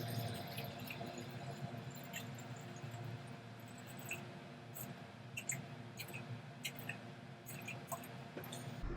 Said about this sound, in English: can kind of hear the hot water, so we're going to start by adding 500 grams of hot water